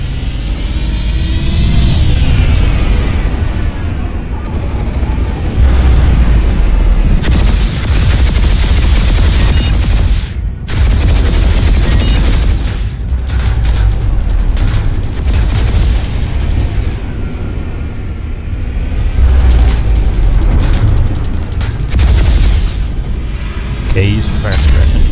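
Aircraft gunfire and explosions in the game Planetside 2 during an air duel, a dense, loud, continuous roar of engines, booms and shots with brief drops, under people talking.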